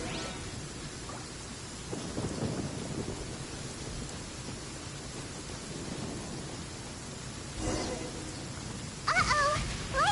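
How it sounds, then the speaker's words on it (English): Genshin Impact lightning storm: a steady wash of rain hiss runs under low, rolling thunder rumbles. Louder surges come near the end. "Uh-oh! Lightning storm!"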